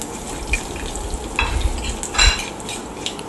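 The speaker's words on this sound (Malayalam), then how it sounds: "കൊണ്ടാട്ടമുളക് വറുത്ത് വരുമ്പോൾ" Sliced kondattam chillies, a sun-dried Kerala chilli, frying in hot oil give a steady close sizzle with brief stirring scrapes and clinks from a pan. No one speaks.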